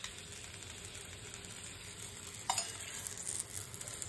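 Poppy seed and green chili paste fries over low heat in a pan with prawns, a soft steady sizzle with a brief clink of a utensil midway, close and quiet.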